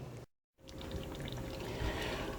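Water pours steadily from a tap over cooked lasagna noodles in a colander, a close, continuous rushing splash after a brief silent gap.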